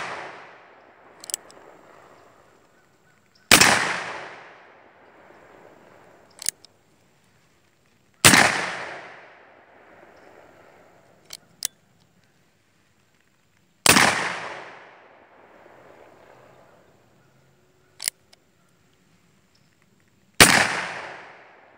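Shots from old Ruger and Remington guns fired outdoors, loud sharp cracks about every five seconds with fading echoes, plus fainter distant pops in between.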